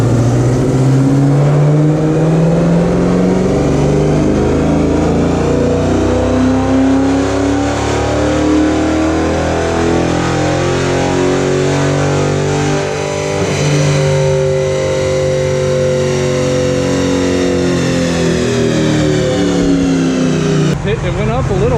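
A Dodge Charger R/T with full bolt-on modifications pulls hard on a dyno, its engine note climbing steadily and loudly through the revs in one long sustained run before cutting off near the end.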